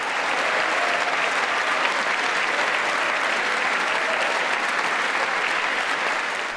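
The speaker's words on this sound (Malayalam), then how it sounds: "ഈ പ്രയോഗത്തിന് എഴുന്നേറ്റ് നിന്നു കൈയടിച്ചു ഭരണ പ്രതിപക്ഷ" Sustained standing applause from lawmakers in the US Congress, a dense, steady roar of clapping that stays loud and even throughout with no speech on top.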